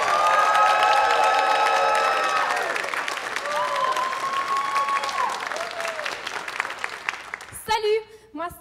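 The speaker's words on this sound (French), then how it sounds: "une bonne main d'applaudissements, mesdames et messieurs" Audience applause and cheering at a comedy night, loud and sustained at first, then thinning as whoops and shouts rise over it, with a voice breaking in at the very end.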